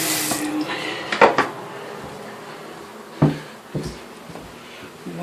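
Tap water runs into a sink as a bearded dragon's dirty water dish is rinsed, a steady splashing stream broken by a few sharp knocks of the dish against the basin.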